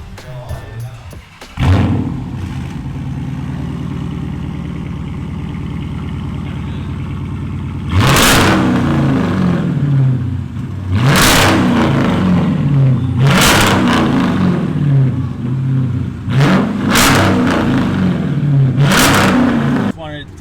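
A Chrysler 300 with straight pipe exhaust, resonators deleted, 2 1/4 inch piping and 4.5 inch burnt tips, idles with a loud, choppy rumble, then blips through several sharp, roaring revs in quick succession.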